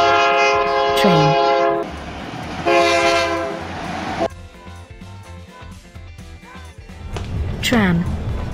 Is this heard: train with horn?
yes